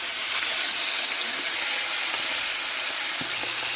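Marinated beef bulgogi fries in about three tablespoons of cooking oil in a hot pan, giving a steady, close, dense sizzle that runs without pause.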